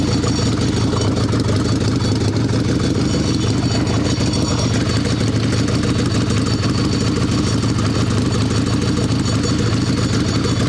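An Evo Sportster chopper motorcycle engine runs steadily nearby, a loud, rough, constant rumble with no break.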